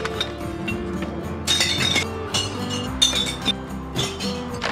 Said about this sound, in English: It's where you take glass you don't need anymore and you can smash it.